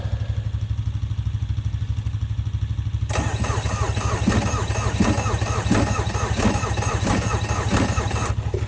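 A cold diesel engine cranks over after its glow plugs cycle, then catches and settles into a loud, steady clattering run close by.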